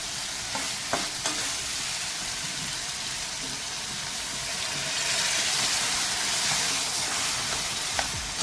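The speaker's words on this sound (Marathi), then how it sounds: "दोन मिनटं छान असा मसाला परतून घ्या" Close, steady sizzling of spice masala sautéing in a pan with occasional scraping and stirring clicks, growing slightly louder toward the end.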